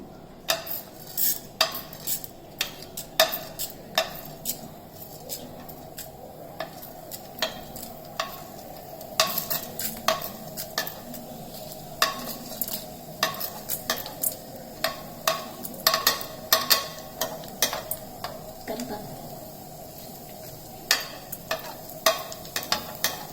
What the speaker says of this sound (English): And the urad dal goes in first after the oil is hot.